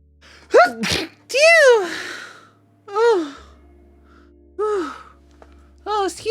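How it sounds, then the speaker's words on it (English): A person sneezes close to the microphone, with several pitched gasping and sighing vocal bursts before and after it, spaced over about six seconds during a livestream. "I need to sneeze."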